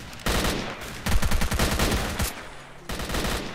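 Shotgun fire against zombies in the video game S.T.A.L.K.E.R. Call of Pripyat, modded with SGM 2.0. Several loud, close bursts of gunfire come in quick clusters with short gaps between them.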